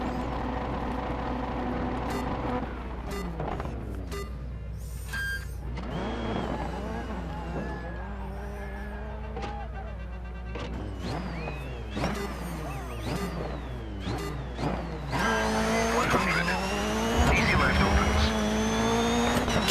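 Race cars in the Dirt 3 racing video game drive under loud game music, with engine tones rising and falling, brief tyre squeals and skids, and a busier burst of engine noise near the end.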